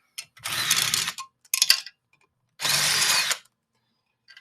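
A handheld power tool backs out engine tank bolts during an engine reassembly, running in three short whirring bursts separated by pauses, close and clear.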